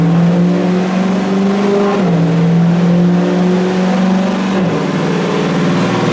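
A supercharged Ibexx Turbo Pro R engine runs on a dyno, a loud sustained drone held at steady revs with small pitch shifts and a brief dip near the end, close and continuous with no talking.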